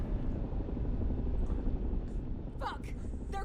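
A steady, loud helicopter rotor drone from the video game Fallout: The Frontier throbs throughout, with brief electronic beeps near the end.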